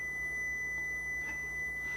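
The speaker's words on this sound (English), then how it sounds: "the signal on this microwave is as relentless as a smoke detector" A Frigidaire Gallery microwave, model FGMV176NTF, sounds its done signal as a steady, piercing high-pitched electronic tone, continuous and unbroken, alone over a low room hum.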